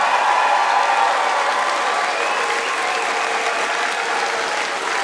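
Loud, sustained applause from a large audience at a furry convention's closing ceremony fills the whole stretch, steady and dense without pause, with faint cheering mixed in.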